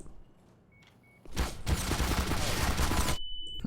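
An automated turret in Black Mesa opens fire after a quiet start, then keeps up a sustained, loud, rapid burst for almost two seconds before cutting off.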